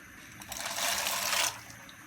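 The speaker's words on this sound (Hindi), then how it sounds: "पानी बॉईल हो चुका है तो अब हम इसमें 100 ग्राम मैकरोनी शामिल कर देंगे" A hundred grams of dry macaroni poured into a pot of boiling water with a little oil, a brief rushing hiss and rattle lasting under a second before settling back to a low simmer.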